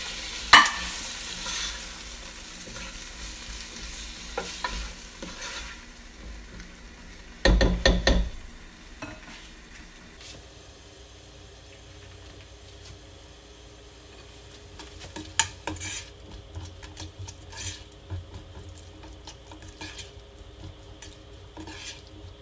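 Chopped tomatoes fry in a pan for chili con carne, a soft steady sizzle broken by bursts of scraping and clattering as a utensil stirs against the pan.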